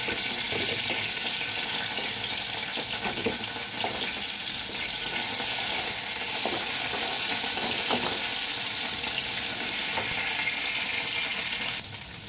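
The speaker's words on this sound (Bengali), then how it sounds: "আলু খুব যে ভাজবো তা না, মানে লাল করে ভাজার দরকার নেই, কিন্তু একটু ভেজে নিই" Potatoes fry lightly in oil in a pan. A continuous close sizzle with some stirring clatter runs throughout, with a few sharper scrapes along the way and no talking.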